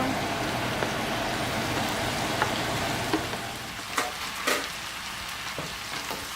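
Tomato and green pepper fry in a pan with a steady, dense sizzle, and a spoon gives a few soft scraping stirs near the end. There is no talk.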